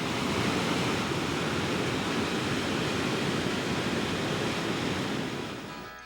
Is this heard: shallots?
no